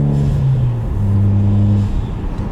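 A 2011 Mitsubishi Lancer Evolution GSR accelerating at full throttle, its engine roaring loud and close from inside the cabin, pitch climbing then dropping at a quick gearshift before rising again.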